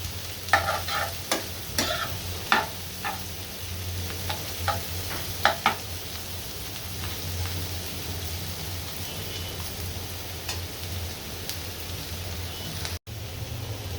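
Sliced bitter gourd fries in hot oil in a kitchen pan, with a steady, low sizzle throughout and a few sharp clinks and scrapes of stirring near the start; no one speaks.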